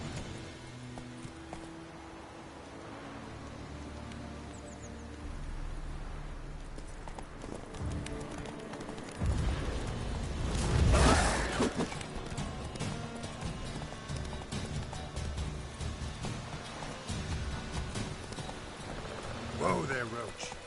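Hooves of the horse Roach galloping in The Witcher 3, a steady clip-clop rhythm running under a man's spoken commands, with a louder burst of movement midway.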